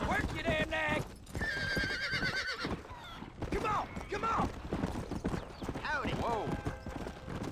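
Horse in the Red Dead Redemption video game: hooves clip-clop steadily, with loud neighs and whinnies rising over the hoofbeats, the animal close and prominent throughout.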